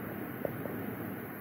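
Computer power choke coil whine, a quiet steady electrical hum with a couple of tiny ticks, alone and close with no talking.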